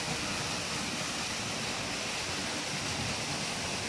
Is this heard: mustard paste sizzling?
no